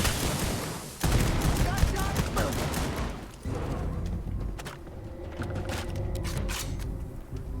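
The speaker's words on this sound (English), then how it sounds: "It's a rapid fire shotgun." Rapid semi-automatic shotgun blasts in Starfield, a dense string of close, loud reports with mechanical clatter between them. A voice talks underneath.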